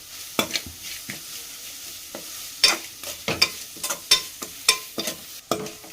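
Spoon scraping and stirring a carrot rice mixture in a pan, a string of close, sharp irregular clacks and scrapes over a faint low sizzle, with no talking.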